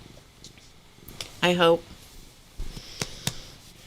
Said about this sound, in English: It's a Siamese meow, isn't it?